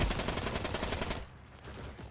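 Gunfire in a shooter game rattles in a rapid burst of shots for about a second before fading into quieter noise.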